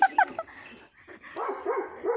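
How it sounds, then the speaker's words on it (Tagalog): A big dog barks and whimpers at a distance in a busy outdoor setting, a few short yips followed by whiny vocal sounds, moderately loud with faint background noise. "Tumahuli yung aso."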